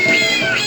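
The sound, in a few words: cat meowing in a cat pinball video game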